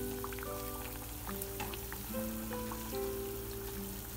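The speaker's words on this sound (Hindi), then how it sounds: "तो ऐसे ही लो फ्लेम में ही इसको फ्राई करने देंगे।" Semolina mathri fry gently in oil over a low flame, with a soft, steady sizzle and scattered tiny crackles that continue faintly under a quiet background hum.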